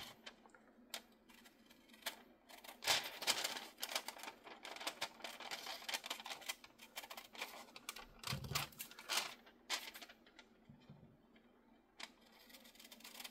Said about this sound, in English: now I'm just going to trim this up right along the edge of that frame